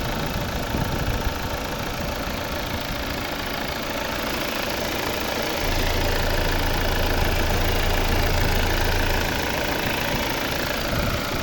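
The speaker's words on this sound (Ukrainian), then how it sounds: "Ось робота двигуна." A 2014 Volvo V70 2.0 D4 diesel engine idles with a steady clattering knock and rough rumble, its low drone growing slightly heavier midway, continuous and close, no voices.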